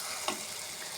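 Tomatoes fry in oil for a fish curry with a brief, steady hiss and one small tick or pop partway through.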